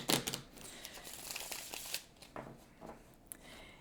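Tarot cards riffled and shuffled up close, a crisp flurry of papery flicks and taps coming in quick bursts, fairly quiet.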